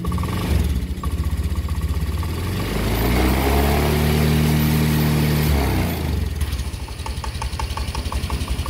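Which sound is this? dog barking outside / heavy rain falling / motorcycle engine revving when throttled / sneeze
motorcycle engine revving when throttled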